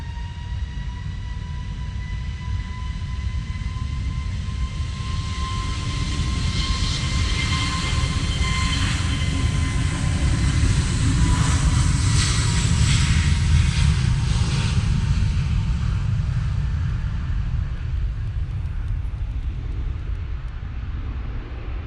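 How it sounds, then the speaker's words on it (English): An Airbus A321neo jet departs for Tenerife from Manchester Airport in wet, windy weather, its engine roar swelling to a loud, steady peak with a thin whine, then slowly fading as it climbs away, with no talk. "Off to Tenerife they go with that 321neo"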